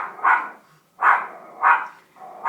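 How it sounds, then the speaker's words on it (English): A dog barks four times at a steady, spaced rhythm, each bark loud and close, with short quiet gaps between and no talking over it. "You guys can just laugh at my dog this whole time."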